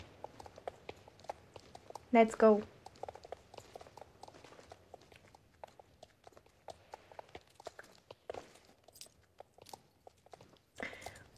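Horse hooves clip-clop at a steady walking pace in the online horse-riding game Star Stable Online, fairly soft beneath ongoing conversation, with a brief louder vocal burst near the start.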